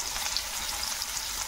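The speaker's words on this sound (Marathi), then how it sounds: "यामध्ये लगेच कांदा टाकून घ्यायचा आहे। कांदाही आपल्याला छान परतून घ्यायचा आहे।" Onion sizzles steadily in a hot pan over a high gas flame for Hakka noodles, a continuous bright frying hiss with faint stirring, close and alone.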